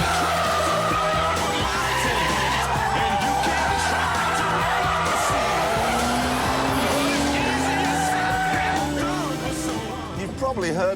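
A Noble sports car corners hard, its tyres squealing and skidding in long wavering screeches over the engine note, loud and sustained nearly throughout.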